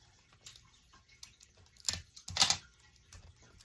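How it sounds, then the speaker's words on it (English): Sticky tape pulled and pressed onto wrapping paper on a Christmas present, with a few short crackling rips and pats that build to two louder bursts, close up and otherwise quiet. "And then you're going to tape it off."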